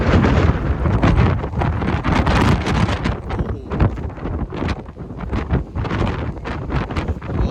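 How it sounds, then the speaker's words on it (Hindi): Strong gusting wind on the Isle of Skye buffets the microphone in loud, rumbling bursts that rise and fall continuously throughout. "बहुत ही तेज हवा चल रही है, मतलब मैं ही हिल रहा हूँ।"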